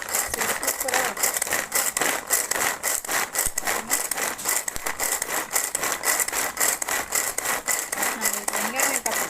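A manual vegetable chopper finely dices onions with quick, rhythmic rasping strokes repeating steadily up close, while a voice speaks faintly underneath.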